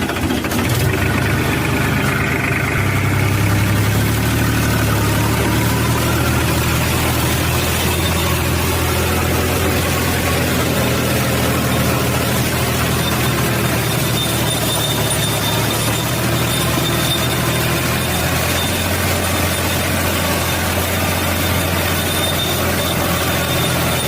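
A tractor engine runs steadily in first gear while pulling a rotavator through a white sorghum field, a loud, close, continuous diesel drone with a low throbbing rumble that holds for the whole stretch.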